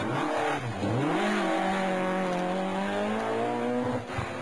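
A Ford Escort Mk2 rally car overcooks a junction at a Carlow rally, its engine revving hard with rising and falling pitch and tires squealing, loud and close with no talk.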